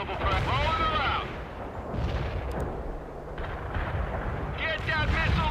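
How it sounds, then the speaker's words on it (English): Artillery barrage in the Cold War strategy game World in Conflict, heavy booming impacts and rumbling explosions rolling on continuously, with a radio voice talking over parts of it. "I have a little surprise coming Ivan's way. Copy. Firing for effect"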